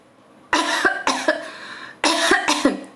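Four sharp, loud coughs close to the listener, falling in two pairs with short pauses between them.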